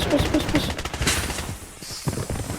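Rapid gunfire in a shooting video game, with sniper rifle shots among a dense burst of cracking reports at the start, then game ambience with a few scattered shots.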